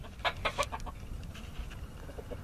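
A game fowl rooster gives a few quick, soft clucks at the start, followed by quieter scattered clucking against a low background.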